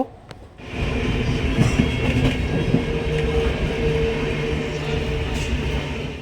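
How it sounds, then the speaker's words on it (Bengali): Steady rumble and rattle of a moving passenger train heard from inside a carriage on an evening run between Suri and Ukhra, building after a brief quiet start and continuing loud and even throughout. "ট্রেনে উঠে পড়লাম এইমাত্র"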